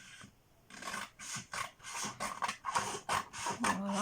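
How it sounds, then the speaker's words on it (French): Scissors roughly cutting paper for a mini folio album, a series of close, crisp rasping snips in uneven bursts with short pauses between strokes. "je vais prendre mon ciseau et je vais couper un peu en gros"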